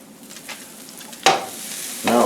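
Low-carb food frying in a pan and starting to burn, a quiet sizzle broken by a sudden loud scrape or flip, then a renewed louder sizzle near the end.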